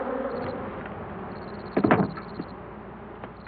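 Honeybees buzz faintly around beekeepers in bee suits, a thin steady hum with a few louder rustling bumps close by midway.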